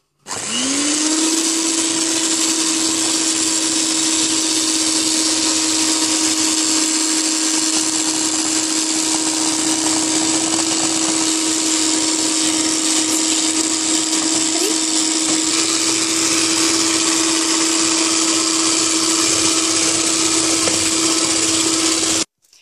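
An electric hand mixer whirs loudly and steadily at one high speed for about twenty seconds, beating chocolate muffin batter while melted butter is added, then cuts off abruptly.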